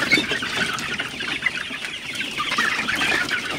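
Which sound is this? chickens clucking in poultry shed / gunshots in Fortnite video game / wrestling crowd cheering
chickens clucking in poultry shed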